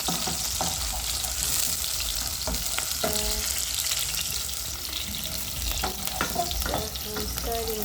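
Onions stir-frying in a pan give a dense, steady sizzle, broken by intermittent scraping and tapping strokes of a spoon against the pan.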